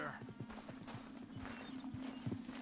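A horse in the video game Red Dead Redemption 2: hooves clip-clop in an uneven rhythm at moderate distance, with a snort and a low engine-like drone beneath, under faint talk.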